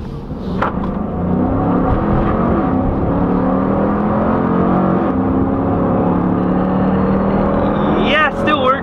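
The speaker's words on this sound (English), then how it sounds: "Let's see if this gas pedal still works." A Dodge Durango SUV engine with eco mode off and sport mode on, running loud and steady with a droning hum, its pitch rising near the end as the gas pedal is pressed.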